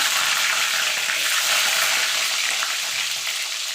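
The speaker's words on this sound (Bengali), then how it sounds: "তেলটা গরম হয়ে গেছে এবার ডিম চাপটা দিয়ে দেব" Eggs frying in hot oil for a dhaba-style egg curry, a loud dense sizzle that stays steady throughout and is close up, with no speech.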